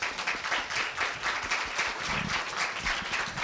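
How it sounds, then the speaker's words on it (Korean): An audience at a middle school speaking festival at Korea University applauds after a student's speech, with dense, steady clapping that stays loud and even for the whole stretch and no talking over it. "다시 한번 경례의 박수 지금 치고 있네요"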